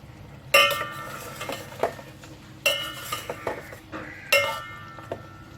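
Chicken Afghani being stirred in a kadai, a utensil scraping and clinking against the metal pan in several loud bursts separated by quieter rustling, close and with no voices.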